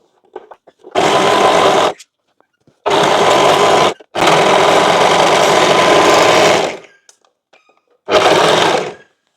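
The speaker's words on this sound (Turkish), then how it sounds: "Overlock ve dikişi." An overlock sewing machine stitches fabric at home in loud, close bursts of high-speed whirring, four runs of about one to three seconds each, separated by near silence.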